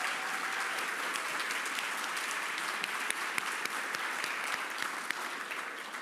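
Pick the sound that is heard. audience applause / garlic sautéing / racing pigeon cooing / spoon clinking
audience applause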